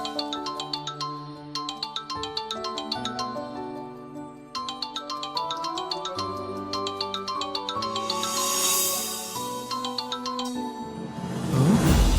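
A phone ringtone plays a repeating melodic tune for about twelve seconds with no one answering, steady and clear, with a brighter swell of sound near the end.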